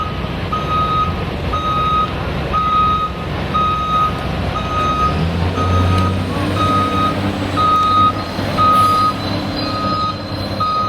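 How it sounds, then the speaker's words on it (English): A truck's reversing alarm beeps in a regular rhythm over a rumbling diesel engine and distant machinery, including crawler-dozer tracks, at a nighttime train wreck cleanup site. "diesel engines, crawler-dozer tracks, and truck backup alarms can be heard"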